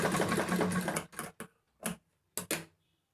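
A sewing machine stitching a newborn baby shirt runs in a fast continuous burst, then stops and restarts in several short bursts separated by silence, close and clear.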